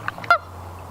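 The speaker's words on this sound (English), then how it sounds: "We've got a huge gaggle of Canada geese over here." Canada geese in a large gaggle by the Connecticut River at Unity Park in Turners Falls, Massachusetts, give a few short nasal honks, with one louder honk standing out over a low steady background hum.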